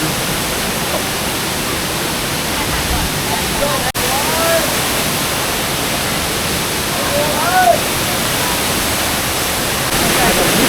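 A large waterfall at Krok I Dok in Thailand gives a steady, loud, broadband roar of falling water that fills the whole clip, with only a momentary dip partway through.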